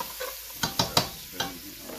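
Vegetables with cayenne stirred in a pot: a few sharp scraping clacks of a spoon against the pot over a faint steady sizzle, spaced irregularly and close up, no talking.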